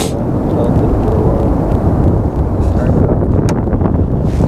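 Strong wind buffeting a microphone on a fishing boat drifting downstream, a loud continuous low rumble that never lets up across the short stretch, with no talk.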